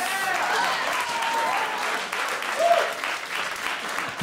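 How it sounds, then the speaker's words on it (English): Comedy club audience clapping steadily throughout, a broad sustained wash of applause with a brief vocal note partway through. "You know what you clapped at?"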